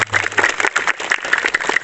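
Students at a school flag ceremony clap together in a brief, dense burst of applause that keeps a steady, lively texture throughout.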